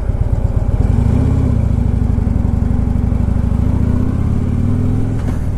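A FreeWheeler motorcycle's engine drones steadily and loudly while riding, a continuous rumbling hum with wind rush and no break.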